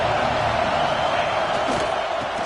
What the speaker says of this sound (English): This crowd ready to make its presence known